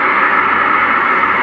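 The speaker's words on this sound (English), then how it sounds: "This is the sound of a plane mid-air," Aircraft cabin noise of a plane in flight: a continuous, loud, even broadband rush with a low hum beneath, unbroken and unchanging throughout.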